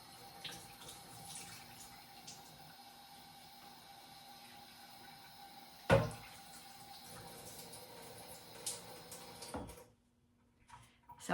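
A kitchen faucet runs into the sink while tenderloin pieces are rinsed, a faint steady stream of water with a sharp knock near the middle, a few clunks and splashes, then the flow stops near the end.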